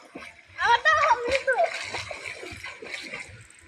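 Water splashes and sloshes as a child swims, the splashing loud and busy through the first half, then settling into softer sloshing with people talking over it.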